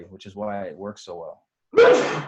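A single loud, abrupt sneeze bursts out close to the microphone right after a man finishes a spoken sentence.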